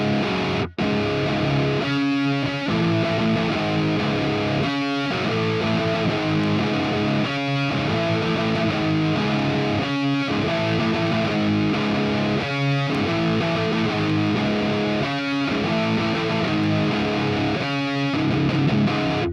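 Distorted electric guitar set up for a particular song's tone, with thick, saturated chugging riffs played loud and continuously, alone, with rhythmic accented hits recurring every few seconds.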